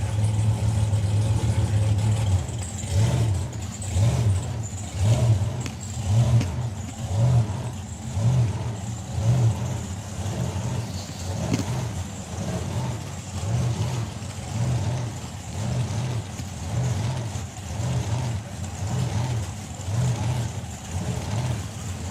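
A supercharged drag racing car known as the blancmange, driven by Dave Russell, rumbles with a deep, pulsing engine note on the dragstrip, steady and loud with rhythmic throttle surges.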